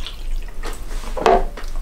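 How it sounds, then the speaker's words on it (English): Ordinary fresh water is poured over crystals in a container, making a short, close trickle and splash with a single brighter gurgle near the end. "pour the water in so it covers the top of the crystal or crystals"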